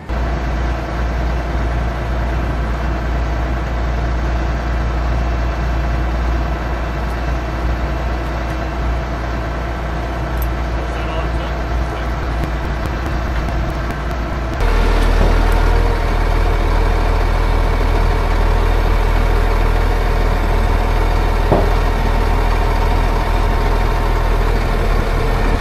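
A heavy diesel tractor engine idles steadily and loudly up close, a low rumbling drone that shifts slightly in tone partway through, with no speech.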